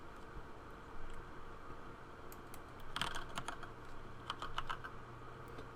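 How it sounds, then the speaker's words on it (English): Keystrokes on a computer keyboard while entering Pokémon stats, a steady run of light clicks with a denser burst of quick taps toward the end, close and alone without talk. "what I'm going to be doing is typing in the stats here of the other Archon"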